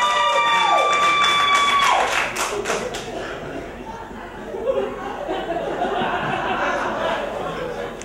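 Comedy club crowd at a comedy festival set cheering and whooping loudly, with a sharp yell up front and scattered clapping and chatter carrying on underneath at a steady level.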